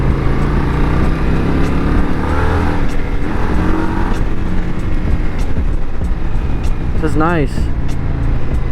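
An Indian Scout motorcycle engine rumbles steadily while riding, a loud, low, continuous drone with wind rush, the rider talking over it throughout.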